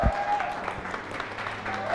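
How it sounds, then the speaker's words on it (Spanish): Audience applause welcoming drag performer Hugo Blanquet, Miss Diamond, onto a talk show stage; a short steady burst of clapping, fairly close, with a brief voice at the start. "Un aplauso para recibir aquí en La Vicenta a Hugo Blanquet, Miss Diamond, la Draga Maravilla."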